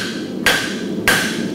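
Hammer tapping clips on a horse's front shoe into the hoof wall during farrier shoeing: two sharp, close metallic taps about half a second apart.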